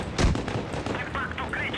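A tank cannon booms in the World of Tanks Blitz game, one loud close blast followed by rumbling impact and game effects, while a voice talks over it.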